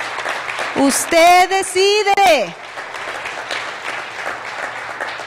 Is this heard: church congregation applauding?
yes